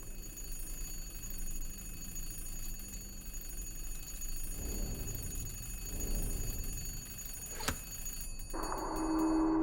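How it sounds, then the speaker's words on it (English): A telephone rings in the puzzle game The Room Three, a faint repeating bell heard at a distance over a low ambient hum, followed by a sharp click and a shift in the background tone. "That's a phone ringing."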